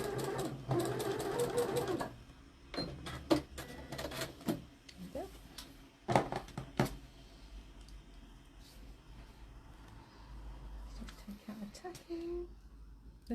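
A sewing machine stitches the last half centimetre of a quick party skirt, with bursts of rapid needle clatter between pauses, close and fairly loud, while people talk in the background.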